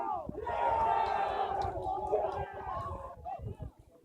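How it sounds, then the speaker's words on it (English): A small group cheers and shouts after a goal is scored in a casual game, a sustained burst of excited voices rising and then tapering off, close by. "the applause is cheering loudly for a goal he just scored"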